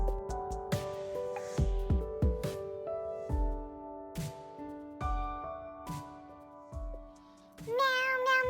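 Repeated cat meows ring out in a rhythmic pattern over thumping low beats, like a tune built from meows, ending in a higher warbling sound.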